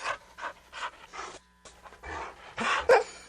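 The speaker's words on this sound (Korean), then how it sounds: "불독은 흥흥 콧소리를 내며 으르렁거리더니" A bulldog snorts and growls in a run of short, rough, panting bursts, close and fairly quiet, with a sharper snort near the end.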